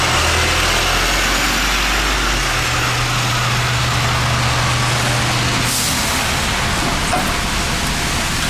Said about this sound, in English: There it comes, my bus is coming.